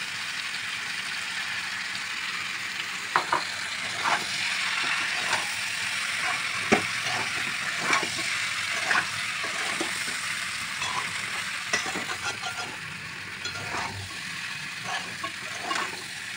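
Chili powder and ground spices frying in oil while being stirred for an amla (Indian gooseberry) pickle. A steady soft sizzle runs throughout, dotted with light scraping clicks from the stirring spoon.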